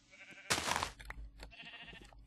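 Sheep bleating in Minecraft, a loud short bleat cutting in sharply, then quieter muffled follow-up bleats and faint shuffling sounds in the background.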